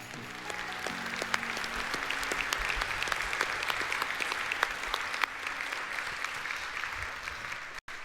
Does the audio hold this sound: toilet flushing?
no